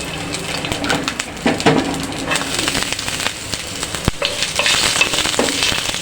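Black cumin seeds and chopped garlic frying in hot mustard oil, a loud, busy sizzle with spattering crackles and a few clinks of a utensil against the pan.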